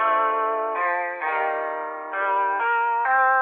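A lead guitar panned left and a chord guitar panned right, recreating the sample behind a song, play clean sustained notes that shift every second or so with a soft echo tail.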